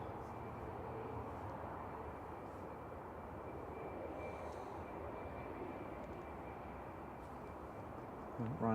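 Aircraft on final approach at Manchester Airport, a steady broad engine roar held throughout at moderate distance, with voices talking faintly underneath.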